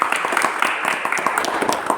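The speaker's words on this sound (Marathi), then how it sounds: "त्यासाठी माझ्या सर्व सहकार्याने एकदा टाळ्या वाजवण्याची विनंती करतो" An audience at a Marathi-language gathering applauds, with dense, steady clapping and distinct individual claps standing out at moderate distance for a couple of seconds.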